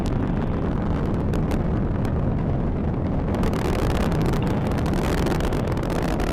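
A ULA rocket's RD-180 booster engines roar during ascent past Mach 1, a continuous loud, dense rumble with crackling bursts, distant and unbroken throughout.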